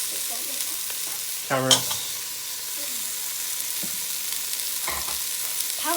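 Diced onion fries in a pan for beef stew, giving a steady close sizzle with stirring scrapes. A voice speaks briefly over the cooking sounds.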